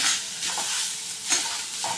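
Koyi greens tempering are stirred in a hot pan on a stove, giving a steady sizzle with a few soft scraping strokes of the spoon and no talking.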